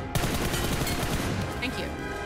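Video game gunfire rings out as an enemy is shot, a sharp opening shot followed by a dense run of rapid reports mixed with other game noise. The firing is loud and close.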